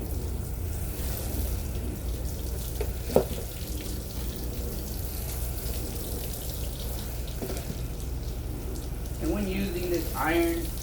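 Water sprays steadily while rinsing a car outdoors, a continuous broad hiss against a low rumble, with a brief knock and a short stretch of faint voice near the end.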